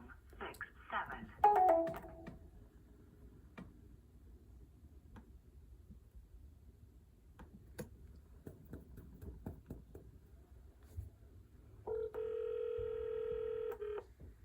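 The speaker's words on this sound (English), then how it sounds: "Let's hear the rings too." A telephone rings through a handset or speaker near the end, a steady repeating ring tone following muffled movement, clicks and brief beeps earlier on.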